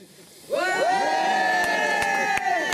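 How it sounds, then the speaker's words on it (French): A harbour crowd in Sainte-Maxime cheers to welcome an arriving boat, bursting in suddenly and holding a loud, sustained roar of massed voices to the end. "Nous avons été accueillis par la population de Sainte-Maxime, la foule était en liesse."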